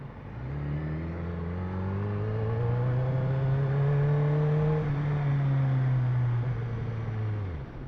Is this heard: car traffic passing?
yes